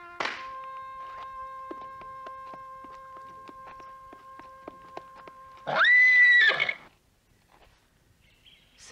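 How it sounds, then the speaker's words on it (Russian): A horse lets out a single loud, drawn-out whinny partway through, rising over sustained orchestral-sounding tones and scattered light knocks, then silence follows. "Ему в подарок от меня даю я лучшего коня."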